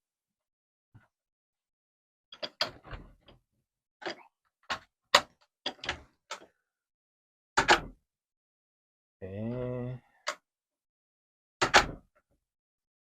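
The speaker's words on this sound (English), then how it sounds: "Now I'm going to do the garage door." A garage door being closed at normal force, not slammed, heard as a string of short, sharp knocks and rattles with gaps between them and one brief mechanical whir partway through. A single short spoken word comes near the start.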